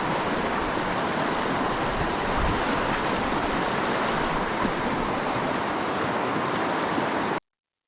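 Fast-flowing trout river with white water, a loud, steady, broadband rushing roar close by with no talk, cutting off abruptly at the end.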